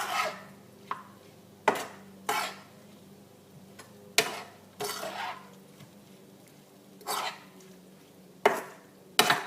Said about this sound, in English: So we're just gonna mix everything up to make sure that everything gets coated evenly.